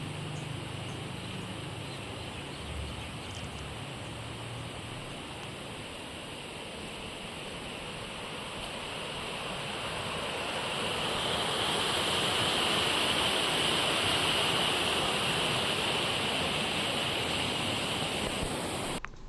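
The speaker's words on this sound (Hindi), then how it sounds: "देखिए, पहाड़ों से होकर पानी बहता हुआ।" A mountain stream near the Tungareshwar temple trek rushes in a steady broadband wash, constant and fairly loud throughout with a slight swell midway.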